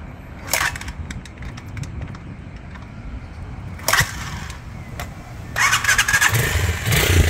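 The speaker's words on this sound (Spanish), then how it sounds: "Qué bien que prende por patada" A Gilera SMX 200 Adventure motorcycle is kick-started outdoors, with several sharp mechanical kicks and brief sputters before the engine catches and runs, loud and close.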